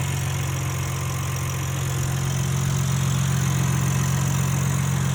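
A BMW M3 CS 3-liter S58 inline-six idles steadily with the hood open, a close, even low rumble that holds at a constant level throughout.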